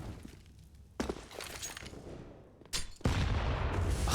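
Grenade blasts during a Counter-Strike grand-final match, with sudden broadband bursts at about one second and again near three seconds, loud and close, the last one sustaining into a roaring wash.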